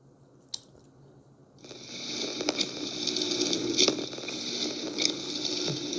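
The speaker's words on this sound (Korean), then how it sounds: "자, 이렇게 인공 파도를 만들고 있습니다." Water sloshes and splashes in a wave tank as artificial waves are driven over a sand bed, starting after a quiet moment and then continuing as a steady watery wash with small splashy accents.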